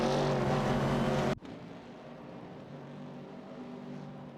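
A race car in an AI-driven racing game roars loudly with a harmonic engine drone that cuts off abruptly, leaving a faint, distant engine hum and track noise after.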